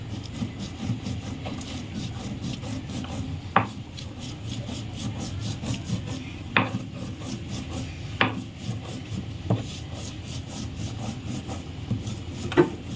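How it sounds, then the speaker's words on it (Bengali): Dried red chillies being ground on a grinding stone, a steady close rasping and rubbing with a few sharper scrapes standing out now and then, no voices. "তিনটে নিয়েছি বন্ধুরা শুকনো লঙ্কা এবারে এর সাথে বেটে নেব"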